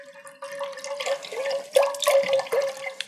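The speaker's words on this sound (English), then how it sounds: "Now we're going to add the rest of this quart of stock." Vegetable stock pours steadily into a pot of homemade tomato soup, a continuous close liquid splash and gurgle with a few heavier surges, with no talking.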